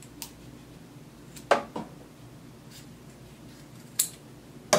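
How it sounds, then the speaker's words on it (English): Scissors snip the corners of a sewn denim belt near the stitching, giving several sharp, separate clicks spaced irregularly over a quiet room background. "we want to clip our corners of the belt"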